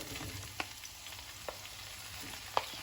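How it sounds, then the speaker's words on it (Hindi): Tomatoes frying in a pan for paneer butter masala, a quiet steady sizzle with a few soft clinks of stirring. "4 बड़े टमाटर लिए हैं और 2 प्याज लिए हमने। ऐड कर देंगे टमाटर"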